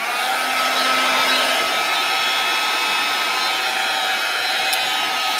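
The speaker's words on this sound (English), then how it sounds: "I am going to use my heat tool just for a second." Handheld heat tool blowing hot air over a mixed media canvas, a loud, steady high-pitched whooshing hum that runs unbroken from start to finish with no talking.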